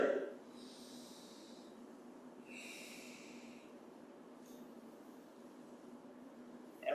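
During a guided qigong breathing exercise, a person takes slow, deep breaths, heard as soft, airy rushes of inhalation and exhalation over a quiet background, with no speech.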